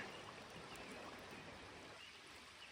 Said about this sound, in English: there's a lot of flowing water